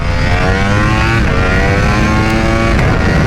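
A 2021 Ducati V4R superbike engine, with a fresh power and torque boost, revs hard under acceleration through the low gears. The loud, close roar climbs steadily in pitch without a break.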